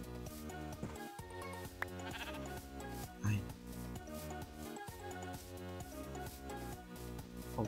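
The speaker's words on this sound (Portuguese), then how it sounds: "Oi, ovelha." Sheep in the Minecraft video game bleat in short wavering calls, a few repeated cries heard close over continuous background game music.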